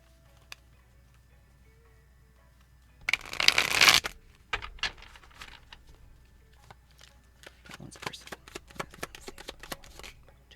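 A deck of message cards is shuffled in one loud burst, followed by lighter scattered card flicks and taps as the cards are handled and laid out, with no voices.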